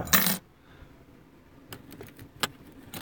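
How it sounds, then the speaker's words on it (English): A quick metallic jangle of car keys for an old Volkswagen Jetta opens, followed by soft rustling and a few small clinks and taps nearby. "Gotta get my keys out."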